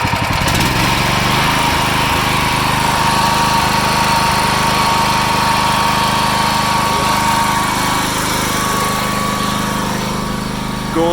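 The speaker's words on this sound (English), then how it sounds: "Start the engine up." A heavy truck engine runs loud and close, a steady diesel drone with a whining tone, while lights and electrics feed a Faymonville trailer fitted with remote rear steering; the running sound holds constant throughout, with no talking.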